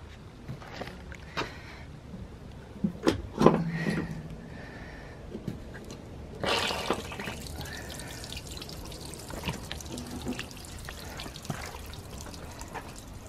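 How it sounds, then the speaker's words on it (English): Waste water drains from a released drain valve under a motorhome, trickling and splashing onto brickwork below in a steady close wash with scattered drips and brief louder gushes, no talking. "just under here is a waste drain, which I'm now going to release"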